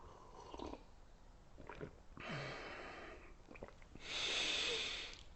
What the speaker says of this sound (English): Breathing in that beautiful oxygen.